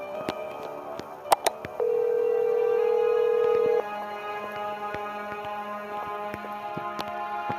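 Telephone ringing in a house escape video game: a short burst of clicks, then a sustained electronic ring tone lasting about two seconds, followed by softer repeating ticks and faint tones.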